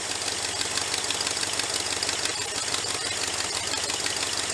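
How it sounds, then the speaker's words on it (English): A cobbled-up 390 engine idles steadily with some excessive blow-by, a continuous mid-pitched running drone with faint knocking texture, close and alone without talk. "she's idling pretty good"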